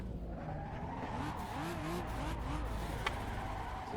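A car spinning out while drifting on a mountain road in Assetto Corsa, with a continuous engine drone and wavering tire squeal, heard close and steady with no voices.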